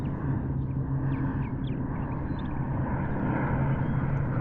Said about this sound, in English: And then we've got the C-130s, I think that's what they are, I don't know. The military planes coming by.